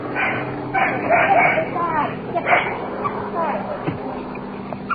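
A dog woken at night gives a few short, fairly close barks and yips in an old radio crime drama, mixed with talk and background noise.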